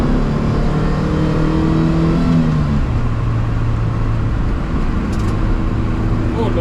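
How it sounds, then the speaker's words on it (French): A 2.2-litre Opel Speedster accelerating hard on a small road, the engine note climbing through the revs, dropping at a gear change, then pulling again, loud and close from inside the car. "on va essayer d'accélérer un peu pour voir ce qu'elle a dans le ventre"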